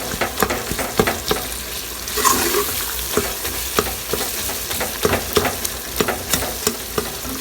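Onion and yogurt masala for chicken curry sizzles and fries steadily in a pan, with repeated scraping knocks of a spoon stirring it, close and fairly loud.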